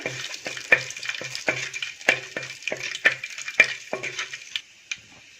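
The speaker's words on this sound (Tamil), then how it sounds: "எல்லாமே கொஞ்சம் நல்லா பொரிஞ்சு வரட்டும்." Whole cinnamon, cloves, cardamom pods and a bay leaf fry in hot oil, with close sizzling broken by a rapid series of sharp crackles and pops.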